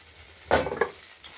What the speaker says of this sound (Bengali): তেজপাতা লঙ্কা জিরে ফোড়ন দিলাম